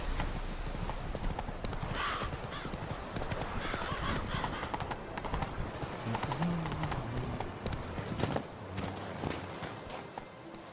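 Roach the horse from The Witcher 3 clip-clopping steadily on hooves with a few whinnies, busy ambient game sound throughout and faint talk mixed underneath.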